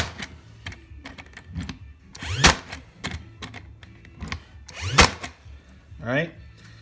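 A Porter Cable PCC790 cordless brad nailer drives brads through quarter round trim into a 2x4, giving several sharp close snaps and whirring cycles at irregular intervals.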